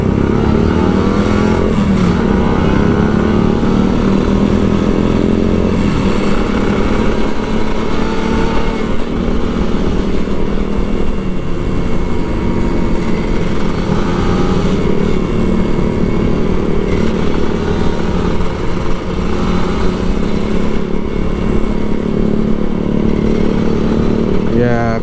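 A Kawasaki Ninja RR 150 motorcycle engine revs and drones steadily while riding in traffic, loud and close throughout with a constant road and wind roar, and a voice talks over it at times.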